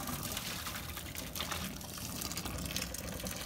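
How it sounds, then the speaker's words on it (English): Hot water strains out of a pot of boiled chicken in a home kitchen, a continuous splashing, gurgling pour that runs steadily for several seconds at close range. "So, we'll just strain out all the water."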